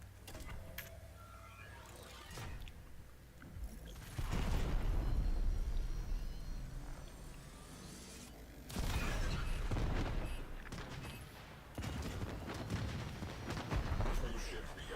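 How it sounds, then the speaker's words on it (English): A cruise ship reactor detonates in the video game Warframe, with heavy rumbling explosions and booming bursts that swell and fade in waves over a continuous din of battle noise. "Cruise ship reactor has detonated."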